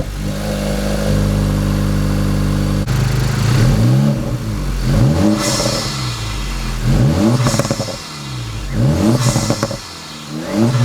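An Acura Integra Type S engine fitted with a PRL exhaust, revved repeatedly from a steady idle into several loud, rising blips with a raspy exhaust note, each falling back between pulls, close and with no voices.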